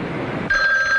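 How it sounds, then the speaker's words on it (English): A telephone bell starts ringing about halfway through, a steady bright ring that is close and moderately loud, following a duller rumbling passage. "Finally, the phone rings."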